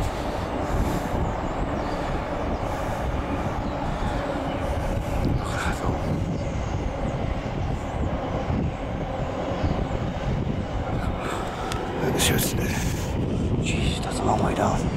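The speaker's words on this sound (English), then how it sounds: "big freight train going over the bridge." A long freight train rumbles over a bridge, a continuous heavy rolling roar with faint wheel squeals, heard from a distance outdoors.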